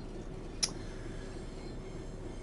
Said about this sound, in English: There's the Four Oaks train.